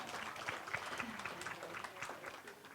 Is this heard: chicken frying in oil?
no